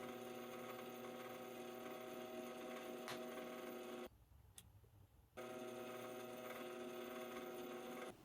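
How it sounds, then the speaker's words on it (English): A drill fitted with a 3/32 bit bores into a copper drawer pull, giving a steady droning whine that cuts out briefly midway and then resumes at the same level. "I'm using a 3/32 bit to start the initial drilling."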